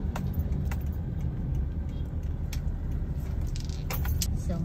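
A car pulling away on a drive from Iligan City to Cagayan de Oro, a steady low engine and road rumble throughout with a few faint clicks and jingles, close and continuous.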